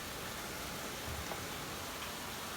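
Steady rain falling outdoors, an even, continuous hiss that fills the whole short stretch with no voices over it.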